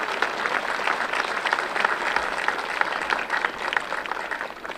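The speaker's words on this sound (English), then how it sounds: "A round of applause for them, please." Steady audience applause at a university commencement ceremony, dense and sustained clapping from a large crowd throughout, with no talk over it.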